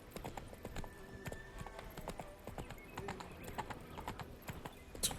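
Horse hooves clip-clop steadily in the video game The Witcher 3, a continuous quiet, even rhythm of hoof strikes with no talking.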